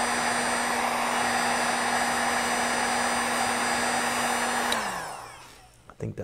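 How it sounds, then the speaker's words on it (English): A small heat gun blows hot air during a motorcycle helmet chin mount install, a steady loud whooshing roar with a constant hum that cuts off near the end and winds down to quiet. "Little heat gun without burning my hand."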